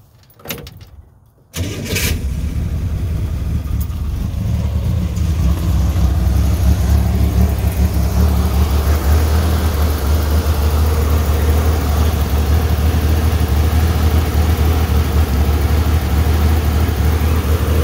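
An early-model Chevrolet Corvair engine, due for a carburetor cleaning, cranks over and catches after a short quiet start, then settles into a loud, steady, slightly uneven idle that runs on alone.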